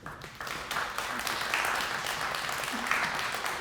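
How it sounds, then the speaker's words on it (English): Applause from an audience at a town planning meeting, a steady dense patter of many hands that swells quickly and holds, with a few faint voices underneath. "Wow, a round of applause."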